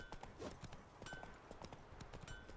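Roach, Geralt's horse in The Witcher 3, gallops with quick, rhythmic hoof clip-clops, close but quiet, continuing steadily without speech.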